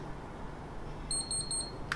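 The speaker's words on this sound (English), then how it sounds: "When you hear the beeping sound," Over faint room hiss, a Hawkeye Firefly 8S action camera powering on gives a quick series of four or five short, high electronic beeps, followed by a brief click.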